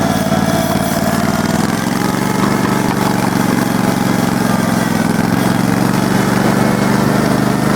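A small engine fitted with a homemade governor runs loud and close, holding a steady, buzzing drone without a break.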